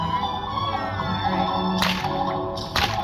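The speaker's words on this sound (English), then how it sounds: "There's 2 whip cracks in a row coming up." Two sharp whip cracks at a circus performance, one near the middle and another close to the end, over a steady background of music.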